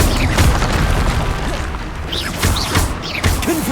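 Spell blasts cast in the Hogwarts Legacy video game, a loud dense barrage of booming bursts and crackling impacts with whooshing magical sweeps, several blasts arriving in quick succession.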